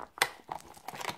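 Stiff heat-sealed plastic packaging around a makeup brush holder crinkles and crackles as it is torn open, with a sharp rustle near the start and softer crumpling after, close and fairly quiet.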